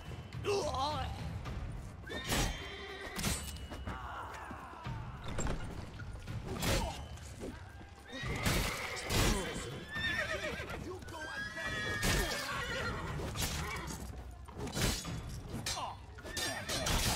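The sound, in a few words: horses neighing and hooves in video game The Witcher 3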